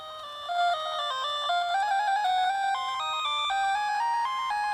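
Small built-in speaker of a Game Boy Pocket or Game Boy Color playing a bright, bleepy chiptune melody with stepping square-wave notes, steady and fairly loud, alone without talk.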